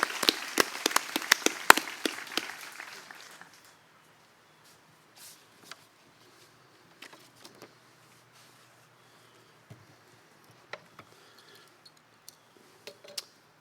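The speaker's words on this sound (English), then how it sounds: "So one more big round of applause for that family." An audience at a 2016 high school graduation ceremony at Frederica Academy claps in a burst of applause for a few seconds that quickly thins out and fades, leaving a quiet hall with occasional small knocks.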